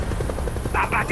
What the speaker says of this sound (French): c'est un hélico